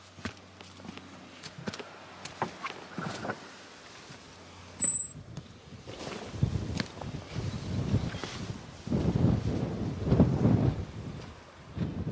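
Wind gusts buffet the microphone in rumbling bursts at the Carn Euny ancient village site, growing stronger toward the end, with scattered thumps and rustling, no voices.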